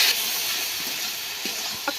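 Water poured into a hot pan of ginger, cumin and spice paste gives a steady, even hiss of steam and sizzle with a faint knock near the end.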